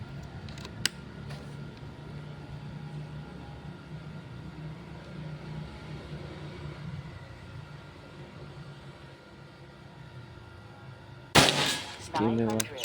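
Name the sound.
air rifle shot, Predator Pajero PCP gun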